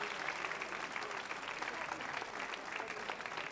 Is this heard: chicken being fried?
no